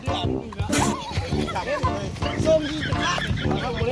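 Chickens and other farmyard fowl cluck and call close by in a rural setting, with honking bird sounds mixing with overlapping talk from people nearby.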